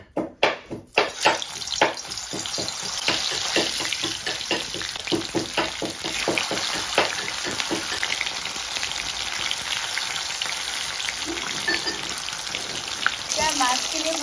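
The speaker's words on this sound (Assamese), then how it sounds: "এতিয়া মই মাছখিনি ভাজি লওঁ" Fish fries in hot oil for a coconut-milk fish dish, a busy crackling sizzle with clattering stirs at the start, then a steady bright hiss running for the whole stretch.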